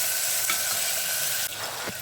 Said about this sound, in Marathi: परतून घेऊया तेलामध्ये।